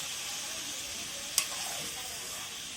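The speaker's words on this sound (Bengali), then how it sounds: "মাটনটাকে এবার ভালো করে কষা হবে," Mutton stir-fried kosha style in a pan in a village kitchen, a steady loud sizzle with a sharp clink of a utensil partway through.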